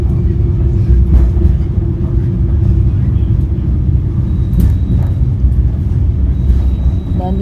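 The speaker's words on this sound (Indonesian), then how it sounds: "Pukul 13:56, kereta api Bengawan tiba di stasiun Kutoarjo." Bengawan passenger train pulling into Kutoarjo station, a loud continuous low rumble of rolling wagons and engine filling the scene, with a brief high tone near the end.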